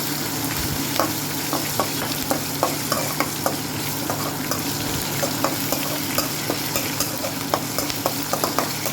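Green chillies and ivy gourd pieces fry in a pan with a steady, close sizzle, broken by frequent light clicks and scrapes of a stirring spoon, with no talking.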